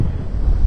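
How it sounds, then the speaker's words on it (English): Wind gusts blow across a microphone on a cold New England beach in Rhode Island after a snowstorm, a loud, low, steady rumble filling the brief moment. "I've got a mic on because it's pretty windy out here."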